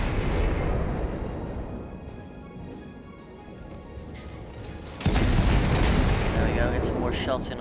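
Naval guns firing during a World of Warships battle, with a steady rumbling roar of game combat that jumps to a heavier, louder blast of gunfire about two-thirds through, with no talk heard.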